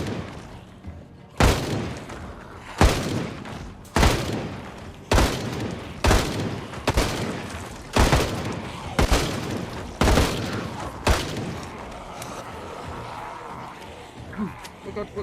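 Rapid 5.56 rifle gunfire in the zombie-survival game Project Zomboid: about ten loud, sharp shots at fairly even intervals over roughly thirteen seconds, with voices talking faintly underneath.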